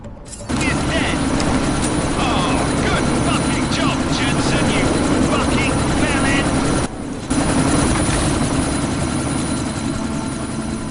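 A military helicopter in the video game Deus Ex: Mankind Divided gives a loud, steady rotor and engine roar that briefly drops out near the middle before resuming, with in-game voices talking over it.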